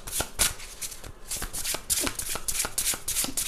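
Tarot cards riffle and slap in repeated quick shuffling bursts, close and crisp, with no one talking.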